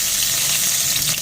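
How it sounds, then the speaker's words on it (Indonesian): Slightly crushed cumin seeds sizzle in hot oil in a pan for an Indian shrimp curry, a loud close hiss with no talking. "Jintennya saya goreng dulu."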